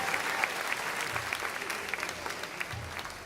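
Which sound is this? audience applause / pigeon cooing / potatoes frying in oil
audience applause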